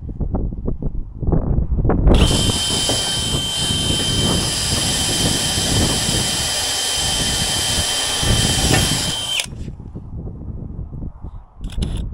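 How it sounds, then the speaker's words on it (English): A power drill pre-drilling a wooden trailer deck board into the metal frame rail, a loud continuous whine lasting several seconds, close up, with outdoor wind rumble before and after. "Pre-drill the frame rail."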